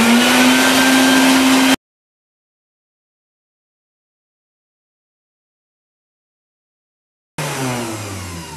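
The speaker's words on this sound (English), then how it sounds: "it makes as much of a noise as a regular vacuum" A new shop vac runs with a loud, steady whining motor hum as it sucks up rice. The sound cuts to silence for several seconds, then returns at slightly lower volume.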